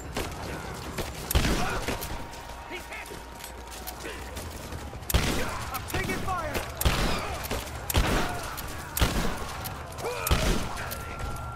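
Repeated sharp gunshots ring out in the village combat of Rise of the Tomb Raider, spaced a second or two apart over a busy ambient bed with mechanical clicks, while someone talks between shots.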